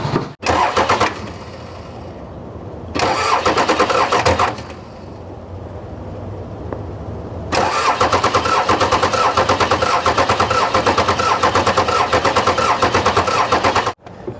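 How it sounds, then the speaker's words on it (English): A 1993 Dodge Ram Cummins diesel, abandoned for 18 years, cranks loudly and close in two short bursts, then catches on the third try and runs with a harsh, steady clatter before cutting off. "Give it a crank."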